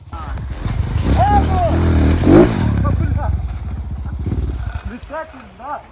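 An enduro motorcycle revving hard on a steep climb, its engine note rising and falling close by as riders shout and talk over it.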